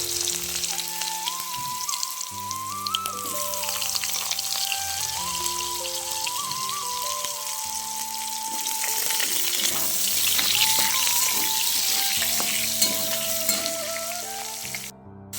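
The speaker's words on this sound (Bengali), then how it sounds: "কড়াতে তেল দিয়ে 2টো কালো জিরে ফোড়ন দিয়ে দেবো। দিয়ে এবার আমি আলুগুলোকে ভেজে নেব।" Potatoes frying in oil with black cumin seeds in a wok, a soft continuous sizzle heard beneath a steady melodic music track, with no talk.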